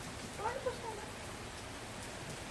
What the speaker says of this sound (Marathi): आज पावसाने आमची हालच लावले